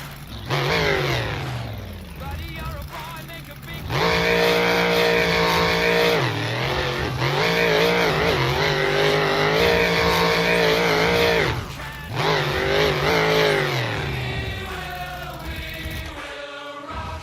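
Two race cars go head to head at a drag race in Webberville, Michigan, their engines roaring loud and sustained, rising in pitch with revving and gear changes, then easing off and fading toward the end.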